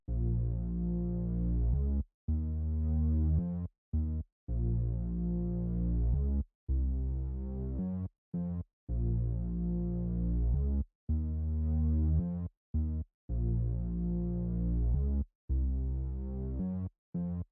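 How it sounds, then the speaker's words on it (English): A deep synth bass line pulses in a steady repeating pattern, with short gaps between phrases and nothing else playing. "I laid down this pretty simple bass line, and it sounds like this."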